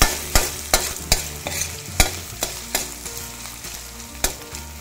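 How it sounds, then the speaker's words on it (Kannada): Ginger and garlic frying in oil for spinach palya, a soft sizzle punctuated by sharp regular spatula taps and scrapes against the pan, about ten strokes, close up with no speech. "ಜೊತೆಯಲ್ಲಿ ಸ್ವಲ್ಪ ಫ್ರೈ ಮಾಡ್ತೇವೆ, ಅದರದ್ದು ರಾನೆಸ್ ಸ್ವಲ್ಪ ಹೋಗಬೇಕು."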